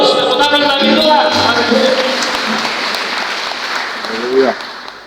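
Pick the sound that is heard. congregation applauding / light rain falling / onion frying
congregation applauding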